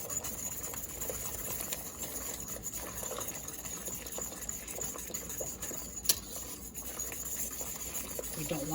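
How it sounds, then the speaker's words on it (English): Steady bubbling and faint whisking from a pot of boiling apple scrap jelly as pectin and sugar are stirred in, a continuous close liquid hiss with a single sharp tap partway through. "I need to slowly add the pectin and the sugar, and I'm going to whisk the whole time that I'm adding this"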